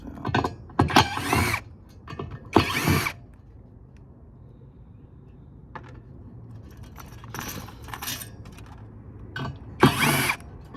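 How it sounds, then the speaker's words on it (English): Screws being removed from an MRI power supply during a teardown, with short bursts of metallic rattling and tool clicks separated by quiet gaps, close and fairly loud. "Get all these screws out."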